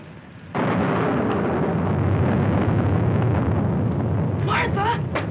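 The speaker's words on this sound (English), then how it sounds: "I'm afraid of the thunder and lightning." Thunder from a storm in a 1946 film bursts in suddenly and rolls on as a long, loud, deep rumble, with a short voiced sound near the end.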